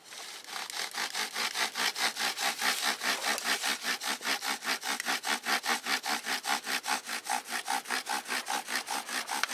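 A bow drill spindle spins against a wooden hearthboard in quick, even back-and-forth strokes, each pass giving a raspy, sawing friction sound close to the ear, about forty regular strokes with no talking.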